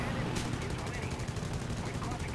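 Cannon fire from the MB.152 C1 fighter in War Thunder, a dense, rapid stream of booming rounds that is loud and constant throughout, with engine roar beneath it.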